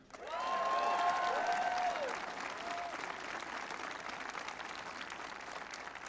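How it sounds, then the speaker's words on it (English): Audience applause for Senator Ron Wyden and Representative Kurt Schrader at a company headquarters event with President Obama, a broad, sustained crowd ovation with some cheering and whistles early on, holding steady throughout. "you should give them a round of applause as well, and that's Senator Ron Wyden and Representative Kurt Schrader"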